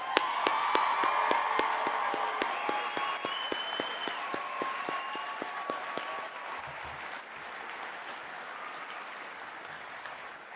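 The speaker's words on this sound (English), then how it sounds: "Please join me for a round of applause for our amazing orator" A graduation ceremony audience gives a round of applause for the student orator, dense sustained clapping from a large crowd that holds steady, then thins slightly toward the end, with brief high-pitched whistles or cheers in the first few seconds.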